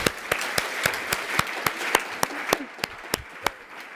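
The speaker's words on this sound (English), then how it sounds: "So can we just give a big round of applause to them?" Sparse clapping from a small conference audience at a health conference, individual sharp claps in a loose, uneven rhythm over about four seconds.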